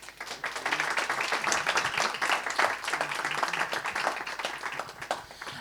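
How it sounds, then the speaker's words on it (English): Audience applause for speakers at the close of a bioenergy debate, a steady dense patter of many hands clapping for several seconds at moderate level. "If I can ask for a big round of applause for them."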